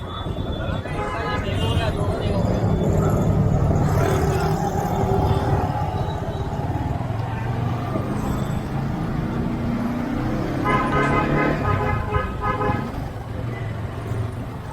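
Busy city road traffic at Udhna Darwaja, a main junction in Surat, with repeated car horns honking over a steady, loud rumble of passing vehicles and voices in the background.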